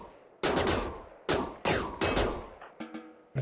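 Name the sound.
gunfire from colonists shooting in RimWorld video game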